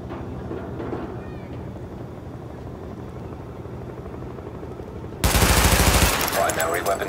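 Automatic gunfire during a weapon test at highlighted targets in The Division video game, a loud sustained burst erupting near the end over a steady rumbling game background.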